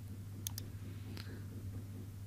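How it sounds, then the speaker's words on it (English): A computer mouse double-clicks: two quick, crisp clicks close together, followed a moment later by a fainter single click, all over a steady low hum with no talking. "Now on the right side, double click on app privacy."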